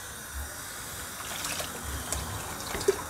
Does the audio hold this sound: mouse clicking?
no